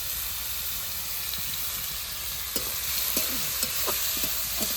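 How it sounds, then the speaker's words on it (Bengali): Spices with salt and turmeric are stirred in a pan over a clay stove under a constant hiss of sizzling. Scattered scraping strokes grow busier toward the end, and no one speaks. "একটু ভালো করে নেড়ে নিই"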